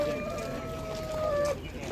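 Poultry, geese and chickens, call at a village market, with a steady drawn-out honk over a busy background murmur of a crowded outdoor place.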